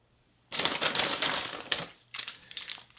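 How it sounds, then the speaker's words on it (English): A plastic Ziploc bag from a military ration menu crinkles and rustles close up, in two bursts of crisp handling separated by a short pause. "Got a plastic bag with a Ziploc."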